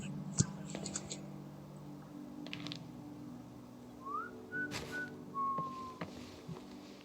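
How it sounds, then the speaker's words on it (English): In the Hello Neighbor 3 game, the vandal character whistles short rising and sliding notes, faint and scattered over quiet ambient game sound with soft clicks. "He's whistling a bunch."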